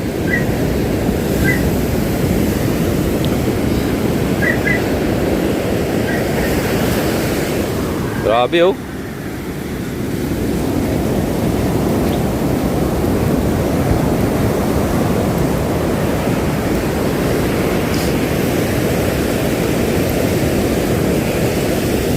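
Ocean waves wash in steadily against a shore where a boat sits, a loud continuous surf roar with wind buffeting the microphone and one brief voice exclaiming midway.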